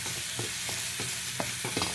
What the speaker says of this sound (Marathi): हुरडा भाजून घ्यायचा आहे.